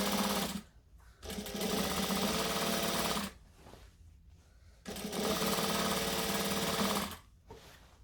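A sewing machine understitches a jacket in two long runs of fast, steady mechanical stitching, each a couple of seconds long, separated by brief quiet pauses, close and clear with no talk.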